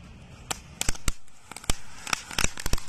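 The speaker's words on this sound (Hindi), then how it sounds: "अब इस रेड ब्लूम वाली अनार को जला के देखते हैं, ये अनार कैसे जलती है।" A red bloom anar fountain firework burning outdoors, giving sharp irregular crackles and pops that come faster and denser as it goes, close and fairly loud against a quiet background.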